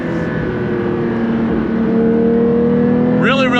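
A 2024 Porsche 911 S/T with a six-speed manual and six individual throttle bodies drones loud and steady while driving through a forest. Its engine rises in pitch toward the end as it revs up.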